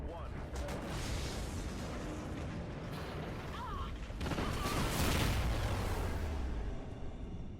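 Space station blown up by detonation in the video game Call of Duty: Ghosts: a sustained rumbling roar of explosions and debris that swells toward the end, with radio-style voices talking over it.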